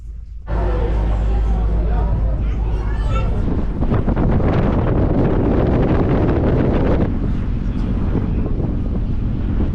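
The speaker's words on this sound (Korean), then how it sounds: "와, 바람 진짜 세다." Strong wind batters the open deck of a ferry, a loud, continuous roaring buffet that blows across the microphone and barely lets up for the whole stretch.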